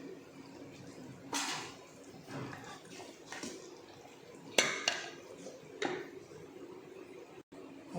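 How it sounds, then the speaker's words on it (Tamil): Metal clanks and clatters of a pressure cooker lid being placed and closed over boiling mushroom biryani in a kitchen, with several sharp knocks spaced over a few seconds above a low simmering background. "இப்போ நம்ம குக்கர் மூடி போட்டு மூடி வச்சிடலாம்."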